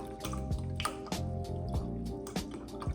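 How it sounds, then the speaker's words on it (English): Chicken stock pours from a carton into a pot for chicken rice, giving a steady close liquid splash with gurgling pulses and drips throughout, no talking over it. "It's splashing all over."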